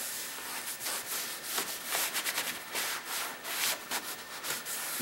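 A cloth scrubs the rubber trim of a BMW to strip oily dressings, making soft rhythmic rubbing strokes close by with a hissy texture, with no talking.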